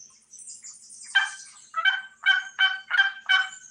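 A handheld turkey call, not a slate call, is worked by a hunter to imitate a turkey: a thin opening note, then a run of five sharp, raspy yelps in quick, even rhythm, close and fairly loud.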